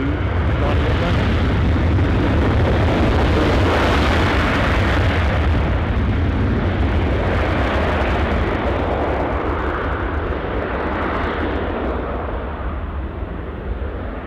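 A Jet2 aircraft bound for Izmir roars at Newcastle airport, a loud, sustained rumbling jet engine noise close by that fills the whole stretch and fades slightly toward the end.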